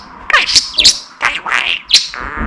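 A pet bird chirps close by, a quick run of sharp, bright tweets and squeaks over a couple of seconds, loud and without speech.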